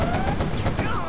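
Quad cannon gunfire in Command & Conquer Generals, a rapid burst of repeated shots that lasts about a second.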